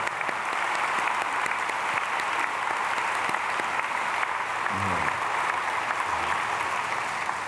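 A church congregation at a Sunday service applauds the choir with sustained, even clapping that fills the room, steady throughout, with a brief low voice murmuring near the end.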